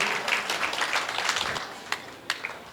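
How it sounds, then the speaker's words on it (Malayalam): An audience at an Onam celebration claps in a moderate, thinning round, with a few sharp individual claps standing out as it fades toward the end. "ഒരു കൈയടി, എല്ലാവരും കൈയെടുക്കൂ."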